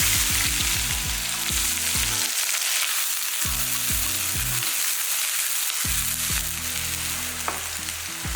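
Small onions hit hot oil already crackling with mustard seeds, cumin and curry leaves for a prawn fry, giving a loud, steady sizzle with bursts of stirring and scraping in the pan; no one speaks.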